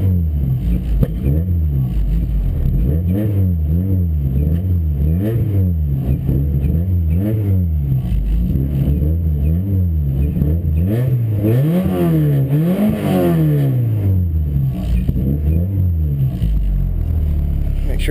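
A car engine idles roughly after a cold start in snow, with repeated revs rising and falling loudly throughout while a voice speaks over it.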